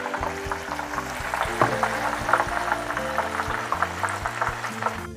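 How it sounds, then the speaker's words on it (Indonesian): Sliced large red chilies fry in oil until dry, a continuous bubbling crackle with small pops over a musical background. "Cabai merah besarnya setelah diiris-iris digoreng ya teman semua. Digoreng sampai kering ya."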